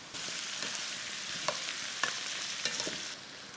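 Onion and bacon, or speck, hit a pan and fry in a steady hiss, with a few sharp crackles and spatters rising above the sizzle for a few seconds.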